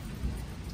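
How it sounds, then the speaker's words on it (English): Thunder rumbles low and heavy through a storm with steady rain, a short deep roar with no voices. "Pretty good thunder roaring."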